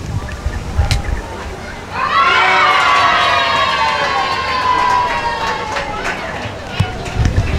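A crowd indoors breaks into cheering, whooping and applause, a swelling roar of voices that holds for several seconds before fading, heard from some distance amid scattered background noise.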